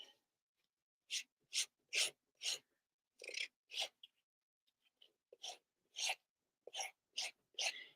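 Rubber stamp being sanded by hand, about a dozen short raspy scrubbing strokes in separate bursts, close and fairly quiet, with brief pauses between groups.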